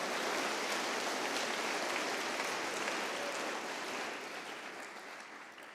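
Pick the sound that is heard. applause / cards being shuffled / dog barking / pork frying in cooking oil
applause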